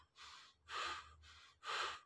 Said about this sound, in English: take three deep breaths through your stomach